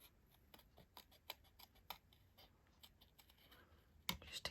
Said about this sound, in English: And then I'm just going to cut my little bird out.